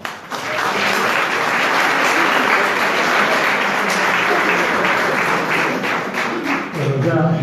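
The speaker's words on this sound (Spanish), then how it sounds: "los recibimos con un aplauso" A lecture audience applauds to welcome a speaker giving a talk on hidden Armenians in Turkey, a dense, steady round of clapping sustained for about seven seconds, loud and close, tapering briefly near the end.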